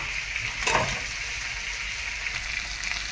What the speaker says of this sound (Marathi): कढईमध्ये थोडं तेल गरम करून वांगे आपण वाफवून घेऊया।